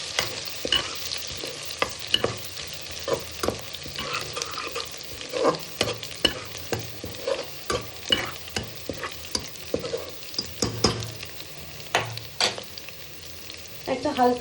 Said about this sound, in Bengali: গ্যাসের ফ্লেম একদম লো করে এটাকে একটু হালকা করে ভেজে নেব।